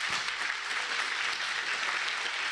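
A church congregation claps loudly and steadily, a dense wash of applause filling the whole moment with no voices over it.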